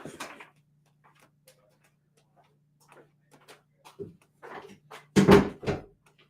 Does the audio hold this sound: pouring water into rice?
no